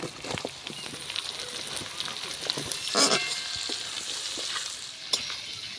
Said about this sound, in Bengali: রসুনটা অল্প ভাজা হয়ে গেলে কুচিয়ে রাখা পেঁয়াজগুলো।